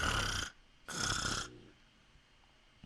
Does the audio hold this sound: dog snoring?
yes